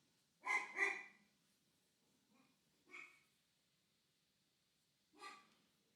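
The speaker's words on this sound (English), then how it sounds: "a dog barking." A dog barks in short bursts: a quick double bark, a pause, then two more single barks, fairly close and clear against a quiet background.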